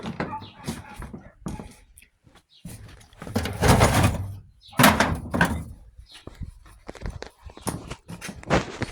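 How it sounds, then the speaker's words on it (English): Rubber mallet knocking on a rusty part of an old engine being taken apart for a rebuild: several dull, close thuds spaced irregularly, with a person talking between the blows. "let's get a rubber mallet and see if we can knock this loose."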